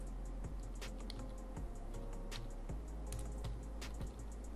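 Keys clatter as a command is typed on a computer keyboard, an uneven string of crisp clicks over a steady low hum, fairly close, with no speech.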